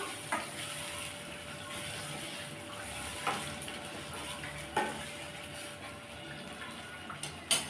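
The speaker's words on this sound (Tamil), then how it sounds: "மசாலா வதங்கி நல்லா எண்ணெய் பிரித்து வந்துருச்சு இப்போ இதை நல்லா கலந்து விட்றலாம்" Masala for Chettinad fish curry sautés in oil as it separates: a soft, steady sizzle with a few separate stirring scrapes spaced several seconds apart, fairly quiet and close.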